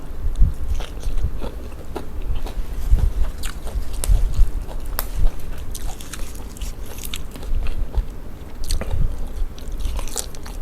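Close, loud crunching as crisp yellow papaya salad is bitten and chewed, irregular crackly bites with short pauses between them.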